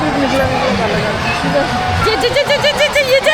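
Jubilant crowd of women at the Kopargaon palkhi procession, a close, loud hubbub of overlapping voices and excited calls, with rising chant-like cries toward the end.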